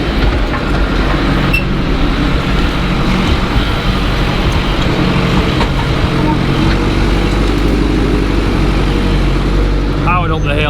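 A classic tractor engine labours uphill while chopping grass, a loud, close, unbroken drone that holds steady throughout, with a voice briefly heard near the end.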